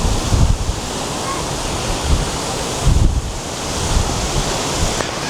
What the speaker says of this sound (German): Der Wind zieht so richtig schön auf.